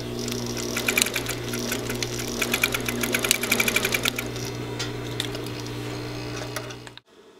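A sewing machine runs steadily while sewing a pillow, a continuous rhythmic mechanical hum and needle clatter at close range that stops abruptly at the end.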